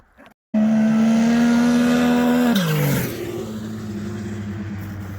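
A turbocharged car on a boosted test run accelerates hard, its engine note climbing steadily and loud, then dropping sharply as the revs fall and settle into a lower drone.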